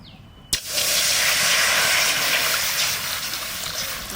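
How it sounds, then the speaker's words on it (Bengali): Water poured into a hot wok sizzles with a sudden loud hiss of steam that bursts up sharply and then holds steady and close, with a faint trickle underneath. "কড়াইতে জল দিচ্ছি।"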